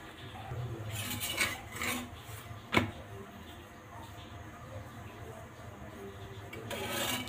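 A roti is laid on a hot tawa over a stove, with soft rubbing and scraping against the griddle and a single sharp metallic clank midway, quiet and close.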